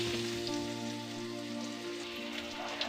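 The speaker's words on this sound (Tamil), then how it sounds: "இந்த எக்கு நல்லா ஃப்ரை ஆகிற அளவுக்கு ஃப்ரை பண்ணி எடுத்துக்கோங்க" Eggs frying in oil with a little turmeric, a steady soft sizzle and crackle under a low background hum, faint and continuous.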